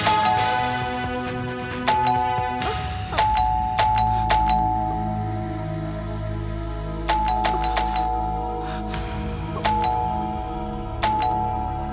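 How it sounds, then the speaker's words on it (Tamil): A household doorbell rings again and again, each press giving a bright two-tone chime, repeated about eight times in quick, insistent bursts over a low background hum. "எதுக்கு காலிங் பெல்ல இப்படி கதற விடுறீங்க?"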